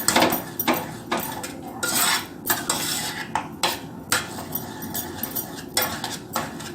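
A spoon stirs jaggery into dal payasam (paruppu pradaman) in a metal pot. It makes close scraping and clinking against the pot in irregular strokes, and no one talks.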